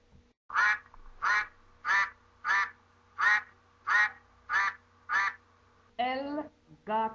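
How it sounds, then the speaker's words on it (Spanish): A farm duck quacks in a steady run of about eight evenly spaced, close quacks, followed by a couple of longer, more drawn-out calls, alone against a faint background hum. "El pato."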